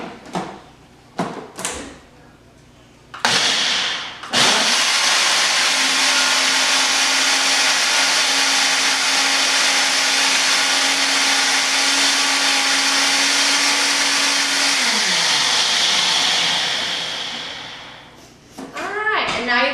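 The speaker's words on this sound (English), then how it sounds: "now we're gonna go ahead and blend it all together" A kitchen blender whirs steadily for about ten seconds, loud and close, while blending vegan sour cream ingredients; its motor pitch holds, then winds down, with handling clatter before and after.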